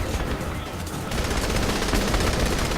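Gunfire from a weapon in the video game Saints Row The Third forms a loud, dense barrage of rapid shots. It grows heavier after the first second and continues without pause.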